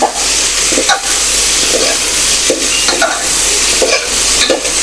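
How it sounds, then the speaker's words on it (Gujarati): Tomatoes and chillies fry in a pan with softened onions, giving a loud steady sizzle, while a spoon stirs through them in several periodic scraping strokes. "તો હવે આપણે તેમાં ટામેટા અને મરચાં નાખી દઈશું તો તેને પણ આપણે સારી રીતે મિક્સ કરી લઈશું"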